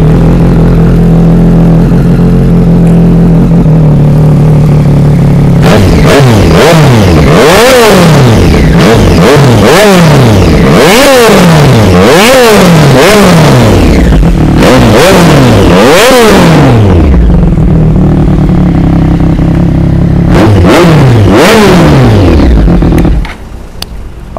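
A 2019 Triumph Street Triple 765 with a Spark exhaust idles loudly, then is blipped through a series of sharp revs that climb and fall in quick rising-and-falling sweeps. A short idle gap comes before a final burst of revving, and the engine cuts off at the end.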